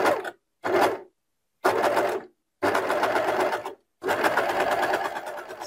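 A sewing machine stitching stretchy fabric for a baby jumpsuit runs in five loud, close bursts of rapid mechanical whirring, separated by short silent pauses.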